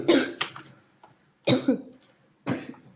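A person coughs close to the microphone in three separate harsh bursts about a second apart, with a little throat noise between them.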